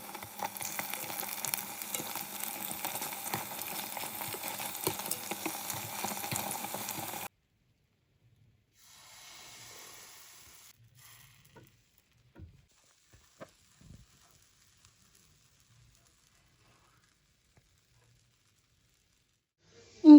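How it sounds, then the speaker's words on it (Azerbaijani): Dough pastries (peraski) filled with herbs, curd cheese and butter fry in oil in a pan, giving a steady close crackling sizzle for about seven seconds before it cuts out into near silence with a few faint knocks. "Belə qızardıram."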